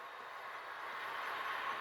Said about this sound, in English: Oh, there's my train.